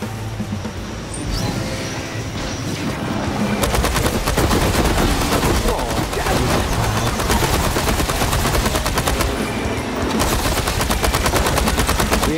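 Loud, continuous rapid-fire automatic gunfire from the sci-fi shooter video game Space Punks, with dense rattling bursts building into a sustained, unbroken barrage.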